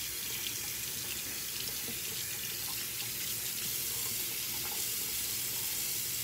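Very hot water pours steadily from a tap into a sink, a constant close hiss and splash with no voices.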